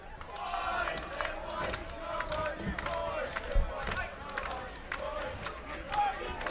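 A crowd chants and cheers in a stadium, a steady roar of many voices with rhythmic rises, heard from a distance.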